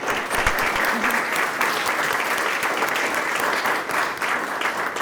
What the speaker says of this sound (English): Let's give Ryan a round of applause.